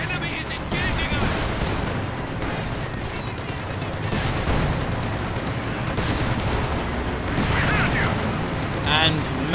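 Dense tank cannon and machine gun fire in a Company of Heroes 2 battle, continuous rattling bursts and booms layered into a loud, unbroken wall of combat noise.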